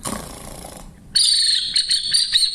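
A Brazilian wooden whistle imitates the call of small Australian parrots: after a brief rustle, a loud, shrill chirping trill follows in short repeated bursts.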